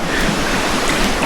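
River water rushes steadily on a mountain trail, a loud, close, continuous wash of flowing water with no voices.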